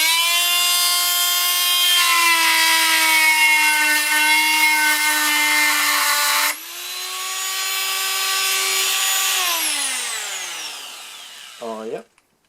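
A multi-tool with an oscillating blade, running with the same blade as a ToolPRO 18V cordless unit, gives a loud steady buzzing whine that shifts pitch partway through, then winds down and stops.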